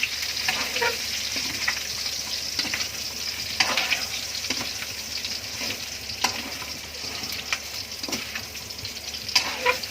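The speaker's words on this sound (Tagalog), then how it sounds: "Patuloy lang natin to hanggang maging golden brown na siya." Fatty pork shoulder pieces sizzle steadily in a pan as they fry toward golden brown, with occasional stirring and scraping clicks over the continuous crackle.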